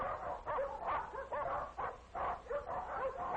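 Dogs bark repeatedly in cages at a dog pound, a steady run of close, loud, overlapping barks and yips.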